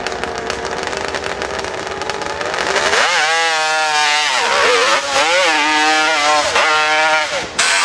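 Racing motorcycle charging up a hillclimb course at a motorcycle club event, engine revving hard and rising in pitch through several gear changes, loud and close, with crowd noise before the launch.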